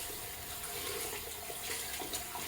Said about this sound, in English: So I'm going to go ahead and wash my face